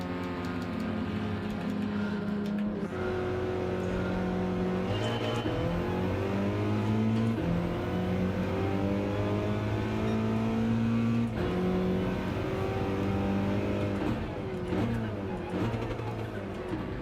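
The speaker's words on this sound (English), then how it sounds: "I'll turn the other thing up so we got engine noise." Race car engines in Gran Turismo 7 drone and rev continuously, pitch climbing through gear changes and dropping on shifts, loud and steady throughout with no talk.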